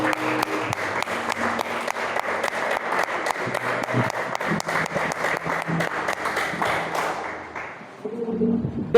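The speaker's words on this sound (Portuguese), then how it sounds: "Pode aplaudir o Senhor." Church congregation applauding during a sermon, a dense continuous wash of clapping that holds steady for several seconds before tapering off, with faint voices underneath.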